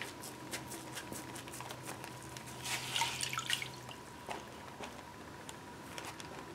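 Small drips and light splashes of water as a water slide decal is dipped, faint and close, with scattered tiny taps and a brief burst of trickling in the middle.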